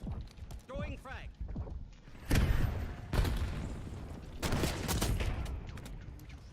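A frag grenade thrown and bursting amid gunfire in a shooter video game, with several sharp, loud blasts and shots in close succession over a steady background and occasional voices.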